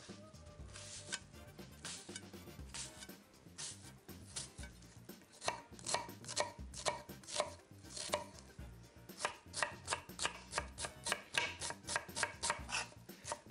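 A knife finely chopping onion on a board for pasta with sobrasada, with quick, sharp, rhythmic taps close by. The pace builds into a fast, steady chop with no talking.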